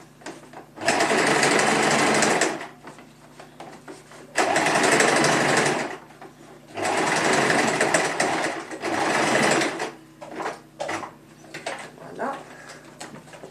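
A domestic sewing machine stitches a bustier's back panel through thick fusible interfacing, running in four long bursts of steady whirring with short pauses between, then a few brief stop-start stitches near the end.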